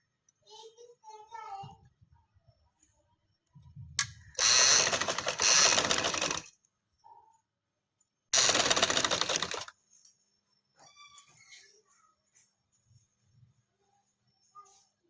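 A sewing machine stitches an embroidered neckline in two loud bursts of rapid mechanical chatter, each lasting a couple of seconds, with soft speech and quiet handling noises in the gaps.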